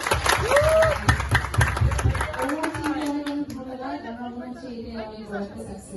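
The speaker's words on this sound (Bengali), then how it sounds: "এটার জন্য জোরে হাত তালি বলে দিলাম।" A crowd claps loudly at a press event for the film Omar, with many TV cameras and reporters present. Dense, steady applause comes first, then gives way to someone talking over fading crowd noise.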